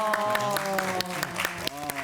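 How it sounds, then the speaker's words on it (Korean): Mothers in a studio audience applaud on a Korean morning talk show, a steady dense patter of clapping with a voice briefly over it. "이거 박수 어머님들 보내시네요"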